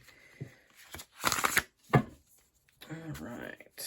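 A tarot deck of Rider-Waite and Lightseer's cards being shuffled and cut in quick, close papery bursts, with a voice heard briefly toward the end.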